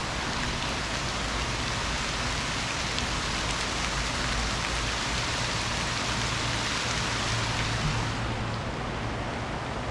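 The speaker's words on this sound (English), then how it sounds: "Finally getting some rain around here." Steady rain falls on an outdoor farm setting, a dense, continuous hiss of drops striking surfaces that stays even and fairly loud throughout, with no talking.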